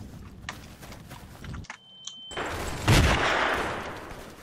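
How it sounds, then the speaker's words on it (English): Gunfire and an explosion in the Roblox Vietnam War shooter Unit 1968: Vietnam, with sharp bursts, a brief near-silent gap, then a loud broadband blast and sustained rumble. "That was an explosion."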